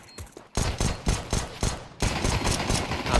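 P250 pistol gunfire in a Counter-Strike match, a quick burst of sharp, loud shots with several other weapons firing rapidly on top in a dense, sustained exchange.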